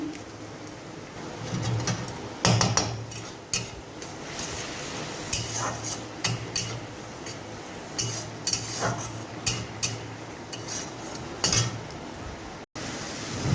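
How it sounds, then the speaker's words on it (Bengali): Spice paste being fried and stirred in a pan, with repeated clinks and scrapes of a utensil against the pan at an uneven rhythm over a soft frying hiss. The sound is close, with no talk. "মশলাটাকে ভালোভাবে কষাবো।"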